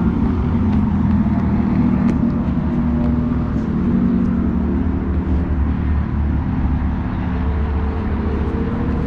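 Car traffic passes on a road by a Guitar Center store in Pennsylvania, a loud, steady rumbling wash of engines and tires that stays constant throughout, with no talking.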